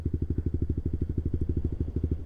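A manual-clutch motorcycle runs on a training ride, its engine putting out a fast, even, pulsing chug close by, steady throughout with no talk.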